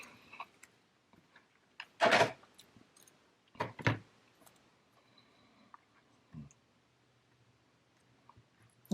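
Scissors snip through a piece of doily paper for a scrapbook page, a few sharp close cuts and soft paper rustles in a quiet room.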